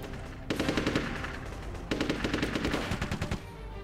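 Rapid machine-gun fire in the Platoon video game, two loud sustained bursts of evenly spaced shots, the first about a second and a half long and the second longer, with no talk.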